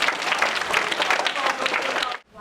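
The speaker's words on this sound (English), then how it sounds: "give me a round of applause" A burst of applause from a crowd of students, dense and even for about two seconds before cutting off abruptly.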